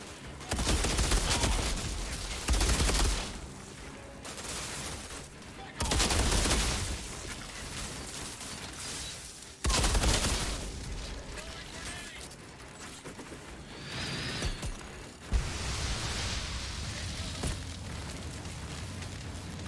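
Gunfire from a gun in the game Outriders, loud bursts of rapid shots in several separate volleys with short pauses between, close and punchy, with occasional talk in the gaps.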